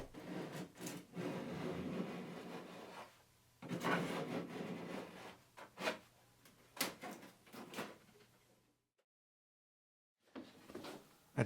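Hand tool work cutting away a wooden dado on the garboard plank of a small lapstrake boat under repair, a run of close scraping and rubbing strokes in irregular bursts, then a pause and a few more strokes.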